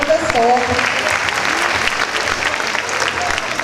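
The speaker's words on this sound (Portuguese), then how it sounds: "nossos aplausos para o professor." Applause for a teacher at a Brazilian school gathering, a dense crowd clapping steadily and close throughout, with faint voices murmuring underneath.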